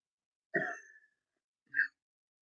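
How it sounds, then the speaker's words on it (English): A person clears their throat or gives a short cough, two brief bursts about a second apart, close and fairly quiet, with no other sound between them. "That cough is not coronavirus."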